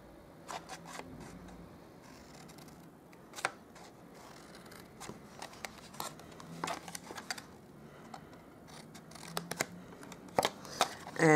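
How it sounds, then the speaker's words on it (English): Scissors snip through cardstock along score lines while a small Easter bunny pizza box is assembled, giving a string of sharp, close cutting clicks at an uneven pace over a quiet room, with a louder burst at the end. "I'm going to cut these up again"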